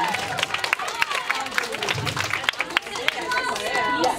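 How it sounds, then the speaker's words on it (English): Applause from a convention panel audience at Con+Alt+Delete, clustered clapping with crowd chatter and voices mixed in, fairly close and moderately loud, with people talking over it. "Can we get another round of applause for Christmas Dad?"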